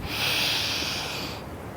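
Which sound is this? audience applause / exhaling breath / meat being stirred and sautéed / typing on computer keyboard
exhaling breath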